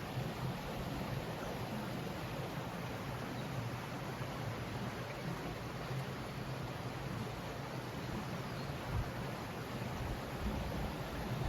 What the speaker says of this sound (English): So that's the waterfall that runs right through the Abbey.